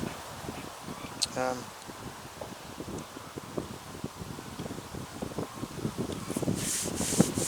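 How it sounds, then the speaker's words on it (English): Wind gusting outdoors on what sounds like a fishing trip, steady rushing and buffeting noise with rustle across the whole clip, close and moderately loud. "The wind has been hacking through here quite viciously."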